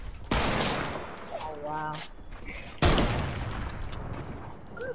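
Video game gunfire: loud bursts of shots and booms with a mechanical whirring sound between them, while a person briefly talks.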